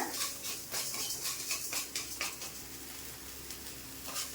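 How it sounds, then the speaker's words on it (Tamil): Red chillies dry roasting with rock salt in a pan, a steady soft rattle and scrape of the pods and salt crystals stirred against metal, close and fairly quiet with no talking. "கல்லுப்பு கூடயே வரமிளகாய் போட்டு நான் வறுத்து வச்சுக்கிறேன்"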